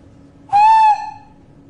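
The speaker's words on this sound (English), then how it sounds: "I will whistle for you." A person whistles one clear, steady tone of about half a second, loud and close, then it cuts off against a quiet room background.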